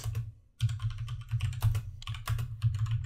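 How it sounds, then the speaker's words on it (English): Rapid typing on a mechanical keyboard, close and clicky with uneven bursts of keystrokes, a brief pause near the start, then continuous clacking. "I'm sure you guys love the sound of mechanical keyboard"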